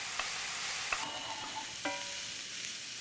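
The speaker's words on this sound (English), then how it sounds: "I'm gonna heat a little bit of olive oil. The first thing in the pan are these beautiful thinly sliced leeks." Thinly sliced leeks sizzle in hot olive oil in a pan, a steady moderate hiss with a few light clinks of a utensil against the pan.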